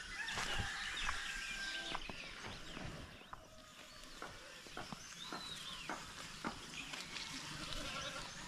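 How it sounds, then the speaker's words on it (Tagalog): A carabao (water buffalo) on a farm calls out in several drawn-out bleating cries, with roosters and other livestock noises over a busy outdoor background. "Ayaw niyang umalis kasi umiyak yung isa nating kalabaw."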